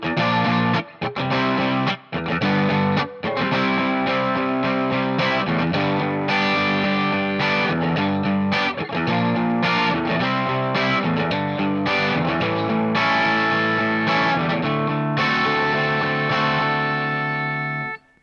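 Electric guitar with distortion and effects plays a chord part in a new key starting from G, loud strummed chords with rhythmic stops, ending on a ringing chord that fades out.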